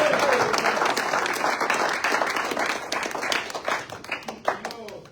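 A congregation at a Spanish-language church service in Irving, Texas claps along, starting as dense clapping and thinning into scattered, distinct hand claps toward the end.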